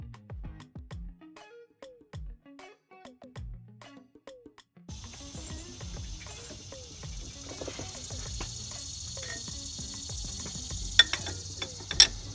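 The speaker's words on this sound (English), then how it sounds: "So I think we're gonna start tightening the alternator down." Tightening the alternator on a 2001–2005 Honda Civic with a ratchet: a run of quick clicking ratchet strokes, then a pause and more clicks over a steady background hum, with a couple of sharp metallic clinks near the end.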